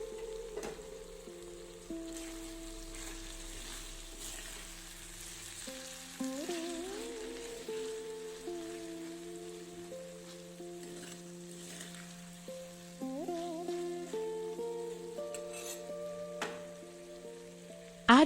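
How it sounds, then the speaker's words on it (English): Beans sabzi sizzles in a pan as it is stirred, with a steady frying hiss and occasional scraping stir sounds, fairly quiet and close, with a soft tonal background under it. "Stir it once more."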